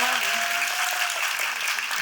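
An audience at a film screening talk in Yongsan applauds in a steady wash of clapping, with a voice speaking over it at the start.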